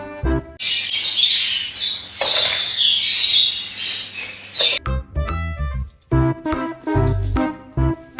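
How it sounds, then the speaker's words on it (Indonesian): Caged birds, an adult with its young, chirping and squawking in bright repeated calls at close range. Choppy bursts of other sound follow in the second half. "burungnya di dalam sangkar"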